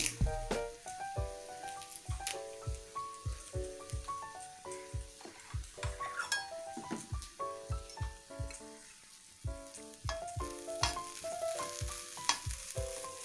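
Grated coconut and curry leaves fry in a pan with a steady crackling sizzle. Tuneful background music with a regular beat plays loudly over it.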